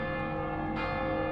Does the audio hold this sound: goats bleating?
no